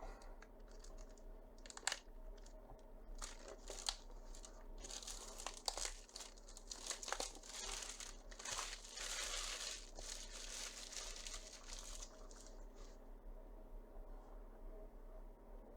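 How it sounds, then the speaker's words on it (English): Very thick shrink wrap on a deep board game box crinkles and crackles as it is handled and torn, with a steady dense rustle and sharp snaps, close and fairly loud. "Very, very thick shrink wrap."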